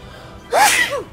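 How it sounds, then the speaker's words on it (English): A single sneeze bursts out at mid-clip, loud and close, rising to a sharp peak before a brief trailing breath, with quiet room tone before and after. "Oh shit, I gotta sneeze."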